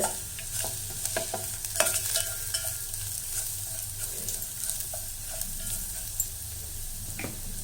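Garlic fries gently in oil over a low flame for garlic rasam, a soft steady sizzle broken by scraping and tapping of a spoon stirring the pan, close and fairly quiet.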